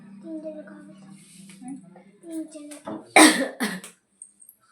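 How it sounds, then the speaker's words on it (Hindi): A few harsh, loud coughs and some throat clearing burst out near the end, after a stretch of quiet, low murmuring. "खांसी आ रही है बहुत ज़्यादा"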